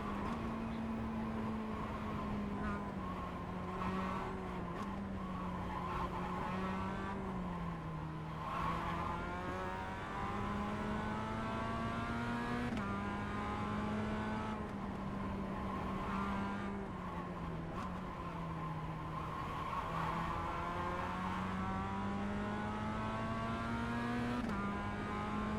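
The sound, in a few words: Mazda race car engine and tires in iRacing video game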